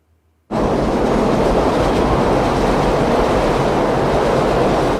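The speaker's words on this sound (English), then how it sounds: "I like that choice too, with the train noise going by" Train rolling past in a scene from The Godfather, a loud broadband rumble that bursts in suddenly and holds steady and close, with no voices over it.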